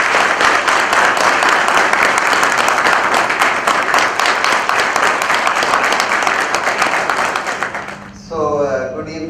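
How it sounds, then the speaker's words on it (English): A large crowd applauds steadily and loudly for about eight seconds, then the clapping fades out as a voice begins speaking. "let's have a huge round of applause and welcome him"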